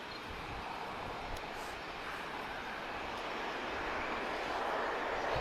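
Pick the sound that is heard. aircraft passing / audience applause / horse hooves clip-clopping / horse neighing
aircraft passing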